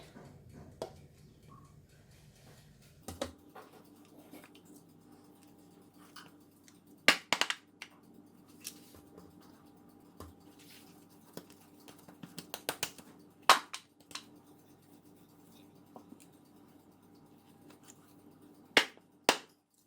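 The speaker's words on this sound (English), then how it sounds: "So I'm going to go ahead and cut all the scone" A knife cuts homemade scone dough into pieces on a board, giving sparse sharp taps and knocks, with a few louder clustered strikes, over a quiet kitchen background.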